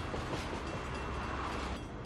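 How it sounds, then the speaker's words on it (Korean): A train rolls past at a road crossing, a loud, steady rumbling roar with rattling wagons that stays constant and close for the whole stretch. "I'm stuck at a train crossing."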